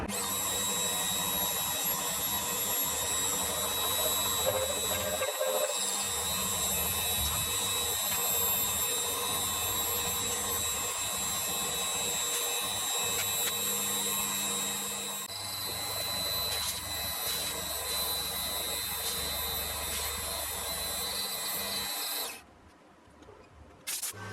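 A lathe machining a 1.5 degree taper on a part for a Webster engine gives a steady, continuous mechanical whine with a constant motor hum. It runs for more than twenty seconds, stops with a brief pause, and cuts off near the end.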